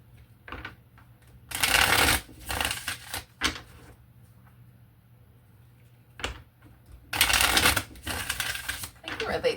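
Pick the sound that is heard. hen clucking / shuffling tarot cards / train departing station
shuffling tarot cards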